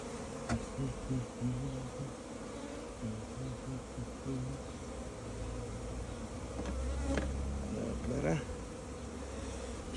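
Honey bees swarm densely around a hive as a package colony is installed, a loud continuous buzzing drone with wavering pitch that fills the whole clip, close to the listener, with no voices.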